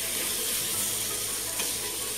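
Chopped tomato pieces go into a hot pan of browned spices for a black chana roast, setting off a loud, steady sizzle close up with no talking.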